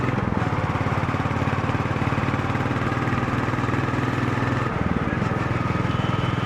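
A Goan Classic 350 motorcycle engine thrums steadily while riding, with a brief dip and change in tone as a gear shifts partway through, then the steady drone resumes.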